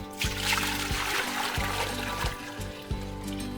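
Wort from a Marzen all-grain brew poured from one container into a measuring vessel, a steady close trickle and splash of liquid with faint clunks of the containers, with no talk over it.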